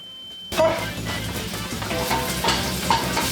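Meat browning in a pan for homemade spaghetti and meatballs, a steady sizzle with occasional stirring and light utensil scrapes against the pan, close and continuous.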